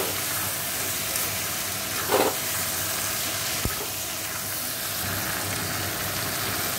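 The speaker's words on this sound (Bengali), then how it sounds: "ভালো করে মশলাটা কষিয়ে নেব" Kidney beans frying in a masala of cumin, coriander and Kashmiri chilli powder, a continuous close hissing sizzle with a brief stirring scrape and a sharp tap partway through.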